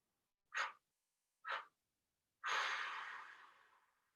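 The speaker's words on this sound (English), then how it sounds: "this time we'll try blowing out through our mouth 5 times" Three forceful breaths blown out through the mouth during a yoga breathing exercise: two short sharp puffs a second apart, then a longer, louder exhale that trails off slowly, close and alone in a quiet room.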